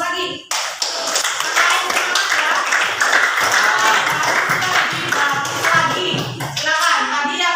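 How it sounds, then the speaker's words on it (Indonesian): A classroom of students claps steadily and briskly for several seconds after a sharp start, close and lively, with voices chattering underneath. "Kasih aplaus lagi."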